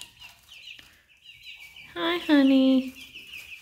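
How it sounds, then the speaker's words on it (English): A backyard chicken, tame enough to be held and petted, clucks close by in a short run of calls while a person speaks softly to it. "the one chicken here that wants to be a little lap chicken is this one."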